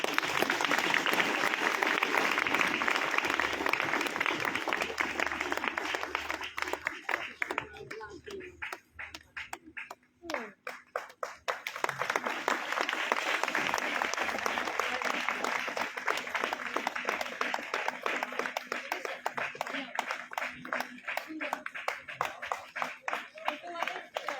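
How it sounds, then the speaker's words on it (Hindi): Sustained applause from a crowd, loud and steady, dipping briefly in the middle before swelling again, with some voices mixed in. "तो जोरदार तालियां"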